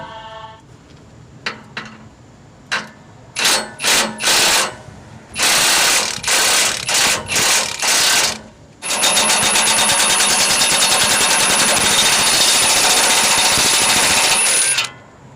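An impact wrench removes rusted exhaust manifold nuts on a 2004-2012 Mitsubishi Galant 2.4L, rattling in short loud bursts, then one long continuous buzzing stretch before stopping, close up.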